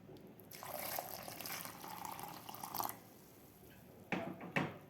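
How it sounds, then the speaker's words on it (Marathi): Lukewarm water, about a glass, poured onto finely ground coconut for solkadi, a steady splashing pour lasting a few seconds, then silence and a couple of brief splashes and knocks near the end, close and clear with no talk. "यामध्ये आता आपल्याला कोमट पाणी घालायचं आहे 1 ग्लास"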